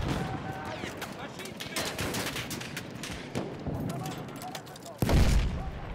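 A frag grenade goes off in Battlefield 1 with a loud, close boom near the end, following several seconds of continuous rattling gunfire and scattered shots.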